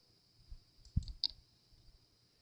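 A computer mouse clicks a few times, sharp and close, with two distinct clicks a moment apart against near silence.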